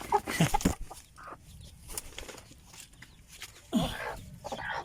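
Native chickens cluck and squawk nearby in short, uneven bursts, with a few louder calls standing out against a quiet background.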